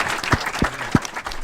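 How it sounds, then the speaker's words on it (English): Applause from an audience at a Q&A, with a few sharp, distinct claps standing out over a steady patter of clapping. "Give them another big round of applause"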